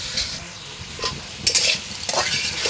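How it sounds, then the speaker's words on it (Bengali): Onions sautéing with garlic and ginger paste in a pan, a close sizzle broken by several scraping stirs of a spoon against the metal. "আমি এখানে পেঁয়াজগুলো প্রথমে একটু সটে করে নিচ্ছি, তারপরে একটু রসুন আর হচ্ছে আদা বাটা দিয়ে দেব"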